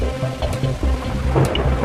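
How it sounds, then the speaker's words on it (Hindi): Heavy, steady rain pours down with low thunder rumbling beneath it, a dense, loud wash of sound with no voices. "मगर बारिश है कि थमने का नाम ही नहीं ले रही"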